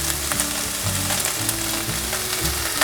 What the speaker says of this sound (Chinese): 把青江菜的梗和黄甜椒放入锅内， 食材翻炒均匀后